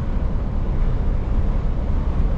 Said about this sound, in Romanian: Bate un vânt afară de rupe